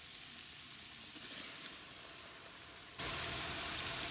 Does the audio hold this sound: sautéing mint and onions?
yes